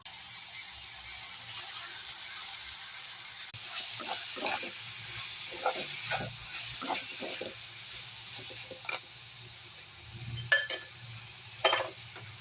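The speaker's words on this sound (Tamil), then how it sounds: "ஸோ அதில் இஞ்சி பூண்டு பேஸ்ட்டு போட்டு கொத்தவரங்காய் போட வைக்கிறேன்." Ginger garlic paste and cluster beans fry in a pan with a steady soft sizzle. Occasional clicks and scrapes of stirring sound close by, growing more frequent toward the end.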